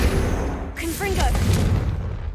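Confringo curse blast from Hogwarts Legacy, a loud booming fiery impact rumbling amid ongoing spell effects and dense game noise, with brief chirping magical tones layered on top.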